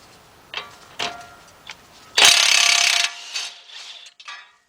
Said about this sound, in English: So I'm using 21mm deep, 1/2-inch drive, and I'm using my cordless impact